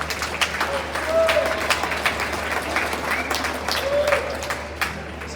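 Audience at a school band concert applauding steadily for several seconds, a dense wash of clapping with faint speech murmuring underneath.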